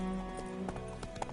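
Hooves of Roach, a horse in a video game, clip-clop in a quick, steady rhythm close by, with a soft snort or whinny among the footfalls.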